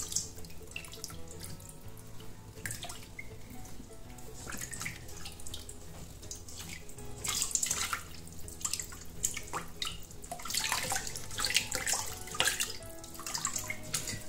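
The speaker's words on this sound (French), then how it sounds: "je vais rajouter mon eau ainsi que la levure." Water and yeast being stirred in a bowl for beignet dough, faint wet sloshing and clinking strokes in an irregular rhythm, close and quiet, no voices.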